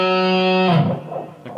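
Electric guitar through an effects unit with distortion sustains a bright, harmonically rich dissonant passing tone, then slides into a shorter, wavering run of notes that fades near the end; played alone, close and fairly loud.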